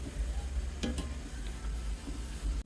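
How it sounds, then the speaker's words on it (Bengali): Jackfruit and coconut pitha fritters frying slowly in oil over low heat, a soft steady sizzle with a couple of brief clinks or stirring taps near the start, quiet and close. "লো হিটে রেখে বড়াগুলি ভেজে নিতে হবে"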